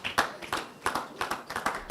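An audience claps for media company staff as they step forward onto a stage at a showcase event, the clapping coming in uneven bursts of many hands at moderate loudness, with no talk over it.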